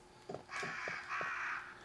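Crows cawing in Resident Evil 1 Director's Cut, several harsh, rasping caws in quick succession, fairly close and clear over a quiet background, with no voices.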